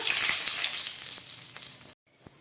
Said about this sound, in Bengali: মাছ ভাজার তেলের মধ্যে আমি দিয়ে দিচ্ছি একটু গরম মশলা ফোড়ন